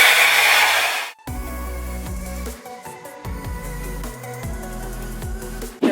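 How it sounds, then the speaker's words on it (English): A hair dryer blows on hair with a close, loud rushing whoosh for about a second before it cuts off abruptly and music takes over. "So I'm just going to quickly dry my hair, just give it a little quick dry"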